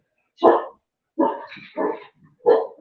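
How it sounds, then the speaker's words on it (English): A dog barks four times in quick succession, sharp and fairly close, with short gaps between the barks and no voices. "Dog's acting crazy now."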